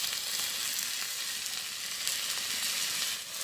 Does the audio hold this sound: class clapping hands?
no